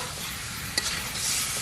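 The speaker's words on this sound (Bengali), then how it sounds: "আমাদের এখন মাংস ভাজা চলছে" Chicken pieces fry with spices, chopped tomato and ginger powder in a village-style kosha, giving a steady sizzle with a brief scrape of stirring partway through.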